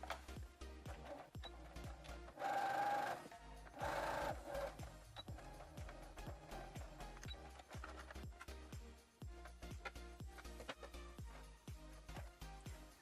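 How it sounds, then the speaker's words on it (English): A sewing machine stitches a pocket onto the front of a pair of shorts along a 5/8 seam allowance, running in steady rapid bursts with brief pauses and a couple of louder, denser stretches, close up and without talk. "the first thing I'm going to start off with is sewing the pocket to the front of the pants"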